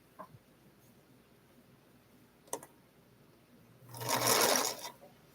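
A sewing machine stitches a quilt in a single burst of about a second, after a few faint clicks and a quiet, still room.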